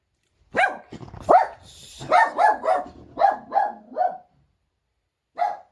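A dog barks repeatedly and loudly up close, a quick run of sharp barks followed by a pause and one final bark.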